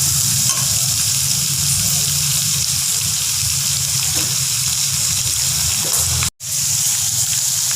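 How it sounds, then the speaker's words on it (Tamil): Sliced onions with a pinch of salt sauté in a pan for a village-style duck curry, producing a loud, continuous close-up sizzle and frying hiss that cuts out for a moment near the end. "நம்ம இப்போ இந்த வெங்காயம் வதங்கிறதுக்கு ரொம்ப நேரம் ஆகும்."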